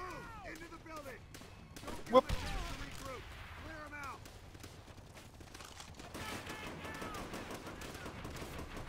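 Gunfire from the video game Call of Duty: World at War rattles in bursts with one loud shot standing out. Players talk and exclaim over it almost the whole time.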